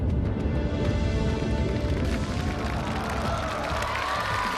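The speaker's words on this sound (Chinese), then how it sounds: "现场所有的观众都在用掌声为你加油" A studio audience at a television challenge show applauds and cheers a contestant building a balance structure on a high-speed train, a steady wash of crowd noise that stays even and continuous.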